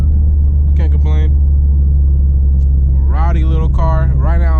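Deep, steady engine drone from inside a 600hp turbocharged Honda Civic Si while driving, a constant low rumble running throughout, with someone talking over it.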